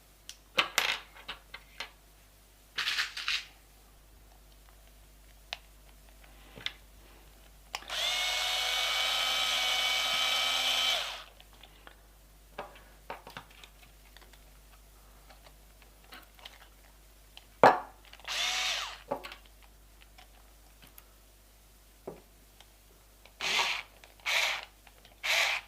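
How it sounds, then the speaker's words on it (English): Low-powered electric screwdriver driving a screw while assembling a gel blaster battle mech: one steady whirring burst of about three seconds, surrounded by scattered clicks, taps and handling knocks, with a few short whirs near the end. "I've got a very low powered screwdriver"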